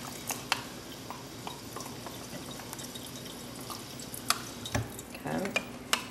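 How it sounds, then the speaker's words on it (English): A spoon stirring a cornstarch and water mixture in a cup, soft swishing with a few light clinks against the sides, quiet and close with no talking. "Stir that up real good till it's all mixed."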